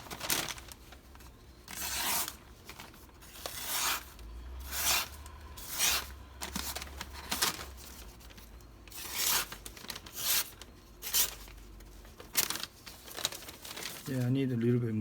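A MAC chef knife is sharpened with repeated scraping strokes at an uneven rhythm, close and fairly loud, with a low hum running underneath.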